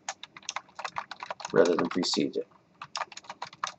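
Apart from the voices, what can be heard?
typing on a computer keyboard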